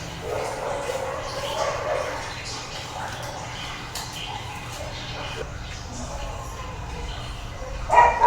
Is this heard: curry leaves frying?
no